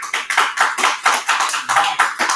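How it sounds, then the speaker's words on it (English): Audience members clap in a quick, uneven rhythm, distinct sharp hand claps repeating about every quarter second, close and clear with little else around them. "So, round of applause."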